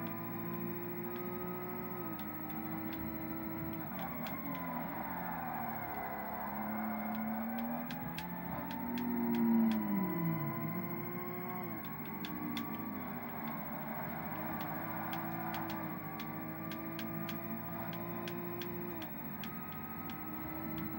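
A steady, droning car engine hums continuously at moderate loudness, with a brief rising whine partway through, in Forza Motorsport on Xbox (2005), wheels spinning and sliding.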